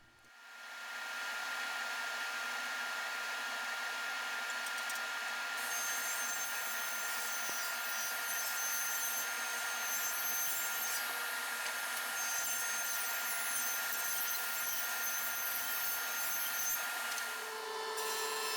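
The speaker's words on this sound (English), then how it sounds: "The bottom rail chamfer is achieved super easy just on the table saw at a 45-degree angle." A table saw bevels a 45-degree chamfer along a wooden bottom rail, giving a steady, loud, broadband whine that holds evenly for most of the time with no talking.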